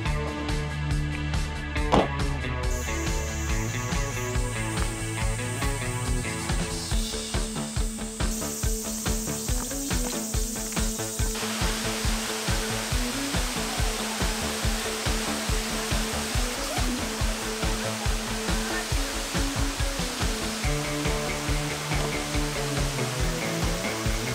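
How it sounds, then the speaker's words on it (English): Waterfall roaring steadily as a dense, continuous rushing wash, loud and unbroken for the whole stretch with no talking. "we're here at the waterfall"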